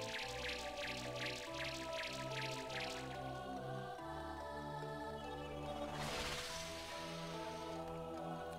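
Dripping water in the Golden Sun: The Lost Age inner sanctum of Anemos, steady plinking drops over a looping low tonal background, with a soft splashy wash near the end and no voices.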